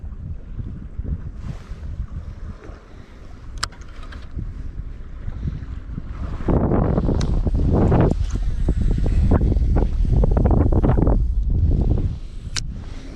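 Gusty wind buffets the microphone on a lake during a barramundi fishing trip, with the rumbling gusts strengthening in the second half and lapping water beneath, no speech.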